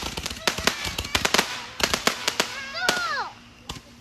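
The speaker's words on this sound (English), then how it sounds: "I'm going to listen to the firework." Fireworks going off in a cul-de-sac: a rapid series of sharp, loud crackling bangs with brief whistling, rising-and-falling tones in between, and faint voices mixed in.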